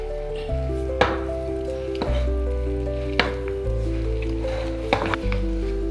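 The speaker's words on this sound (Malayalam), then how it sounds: "ഞാൻ ഈ ചപ്പാത്തിയുടെ പരത്തുന്ന സാധനം കൊണ്ട് ഇളക്കി നല്ലോണം വെന്ത് നല്ല കട്ടിയായി" Thick cooked jackfruit in Kerala style being stirred with a chapati rolling pin, giving soft squelching pushes and a few dull knocks against the pot over a steady low background.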